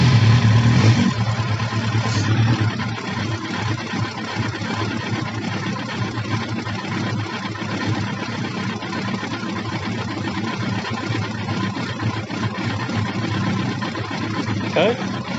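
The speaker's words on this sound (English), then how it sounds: "Light goes out, fire the bike up." A Yamaha R1 motorcycle, a 2000 5JJ model, runs at a steady idle after starting up, a continuous close engine drone with a brief louder burst at the start and no talking.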